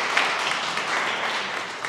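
Brief burst of audience applause for city staff at a mayoral press event, steady clapping from a small crowd lasting under two seconds.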